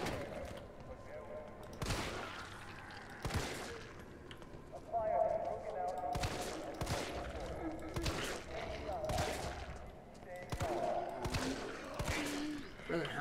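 Gunfire in the video game Resident Evil 3: a series of sharp, loud shots at irregular intervals, mixed with game sounds and a voice speaking over them.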